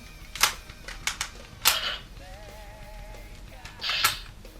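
Bright electronic zaps and pew sounds from a Power Rangers Legacy Blade Blaster toy fire in short bursts, with a warbling tone in between, crisp and close.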